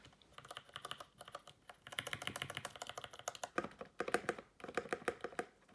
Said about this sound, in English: I'm gonna do a quick typing test.